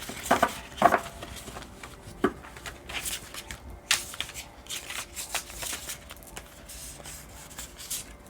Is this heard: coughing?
no